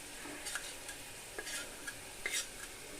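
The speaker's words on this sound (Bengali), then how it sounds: "মশলাটাকে আমি একটু ভালোভাবে কষিয়ে নিব।" Spice paste with ground coriander and salt is sautéed in a pan for rohu fish curry, giving a low steady sizzle with occasional faint scrapes of a spoon, quiet and without voices.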